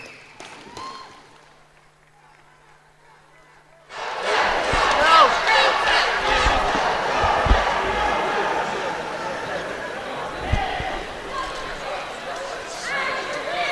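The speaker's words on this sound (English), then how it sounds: "round of applause for your runner-up, Rebecca Caslin." After about four seconds of near quiet, a crowd at a women's combat fight event in Birmingham bursts into sustained cheering, clapping and shouting. The crowd noise stays loud and continuous, with voices mixed in.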